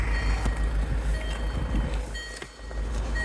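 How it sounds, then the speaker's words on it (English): A 2015 Land Rover Discovery Sport with a cream interior and 100,000 miles sounds its door-open warning, a thin, steady electronic beeping tone repeating inside the cabin, moderately quiet over low rumbling background noise. "It'll stop beeping in a second once I've closed the door."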